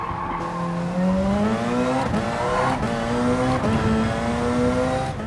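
A race car engine in the racing game Gran Turismo Sport revs loud and continuous, pitch rising and dipping through gear changes, with brief tire squeal and skid noise.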